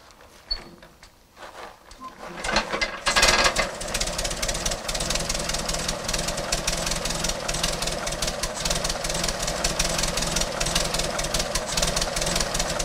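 After a few quiet knocks, an old hand-cranked tractor engine sputters to life and settles into a loud, steady knocking idle with a rapid chugging beat.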